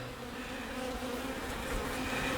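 Honeybees hum in an open hive box holding brood, larvae and eggs, a steady close-up drone that stays even in level throughout.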